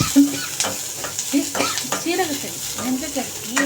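Garlic and onion sautéing in a pan for tamarind curry with okra, sizzling steadily while a spoon stirs and scrapes in quick strokes, close by, with a voice faintly in the background.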